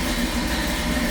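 A 1965 Chevrolet Malibu hardtop's 350 V8, fitted with an Edelbrock 4-barrel carburetor, idles in a steady, even low rumble that holds at a constant level with no other sound.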